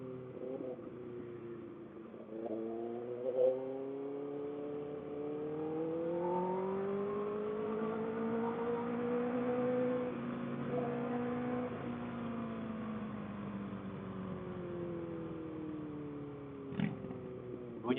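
A Harley-Davidson twin-engine motorcycle revs up and settles back, its low, smooth exhaust note rising and falling over several seconds at moderate distance, with no talking.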